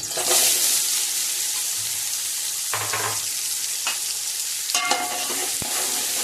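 Onions sizzle loudly in hot oil for mutton biryani while being stirred, a constant frying hiss broken by scraping strokes of a utensil against the pot, close and with no talking.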